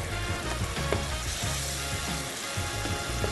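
Chopped canned cherries sizzle and fry in a hot pan, a dense, continuous crackle with soft stirring scrapes, close and fairly loud, with no voices.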